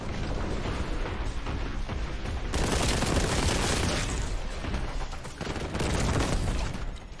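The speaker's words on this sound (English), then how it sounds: "that was an impact grenade" Impact grenade blasts in the Warhammer 40,000: Boltgun shooter game, loud booming explosions and dense gunfire bursts layered over a continuous rumbling din, with sharp surges around the middle and near the end.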